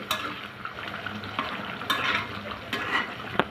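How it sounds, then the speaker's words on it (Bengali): Onion and gram flour curry with garam masala gently stirred in a pan, a soft sizzle under slow scraping and light clinks of the spoon against the metal, close and fairly quiet. "এখন দিয়ে দেবো হাফ চা চামচ গরম মশলা নেড়ে চেড়ে নিব ঠিক আলতোভাবে নাড়বেন"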